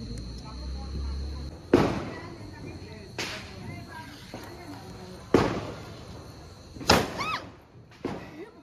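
Firecrackers burst during Diwali celebrations, five sharp, loud bangs spaced a second or two apart, each with a brief ringing tail, while voices murmur faintly in the background.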